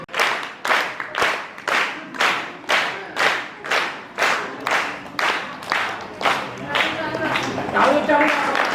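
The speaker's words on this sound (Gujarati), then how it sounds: "આપણે જોરદાર તાળીઓથી એમને વધાવીશું અને આપ એ ત્રણેય દીકરીઓને સન્માન કરશો." An audience at a Raksha Bandhan prize-giving event claps in unison to welcome three honoured daughters: loud, regular rhythmic bursts, about two per second, building into continuous applause at the end.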